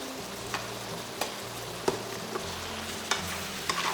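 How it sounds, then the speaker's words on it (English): Pork slices and green peas sizzle steadily in a frying pan, with a spatula clicking and scraping against the pan every second or so, close and fairly loud, with no one talking. "Fry this for about another minute or so."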